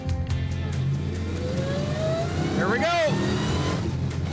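A fast GYC car engine accelerates hard through the gears, a rising roaring whine that climbs in pitch with a quick shift dip near the end, heard from inside the car with a brief spoken remark.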